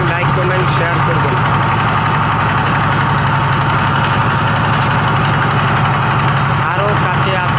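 A trawler boat's diesel engine running while the boat is underway, a loud, steady low throbbing chug close by that continues without a break, with someone talking over it.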